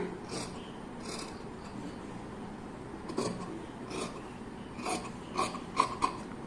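Scissors or a blade cut through folded craft material at home, a soft rasping snip repeated in short strokes, with a few louder crisp cuts near the end, close and fairly quiet with no talk.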